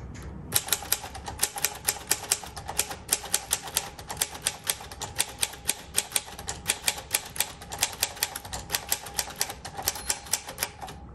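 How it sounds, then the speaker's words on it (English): Keys strike a typewriter in a quick, steady run of sharp, close clacks, with no voices over the typing. "This is a beautiful typewriter."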